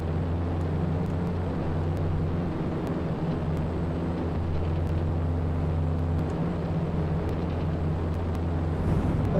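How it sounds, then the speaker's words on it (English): Aircraft engine from a Top Gun flight simulator game, a steady droning hum with constant low tones running unbroken and fairly loud throughout, no voices over it. "Ooh, listen to the engine sound."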